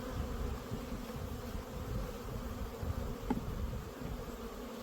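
Honeybees being moved into a flow hive, a steady droning buzz of many insects close by with no talk.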